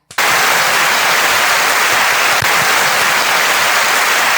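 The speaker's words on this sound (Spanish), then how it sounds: "este aplauso es para el pueblo mexicano" Loud, dense applause from an audience, starting abruptly and continuing as a steady wash of clapping throughout, close and uninterrupted, with no talking on top.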